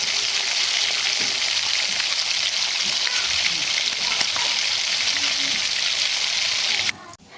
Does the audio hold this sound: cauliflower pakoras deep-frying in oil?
yes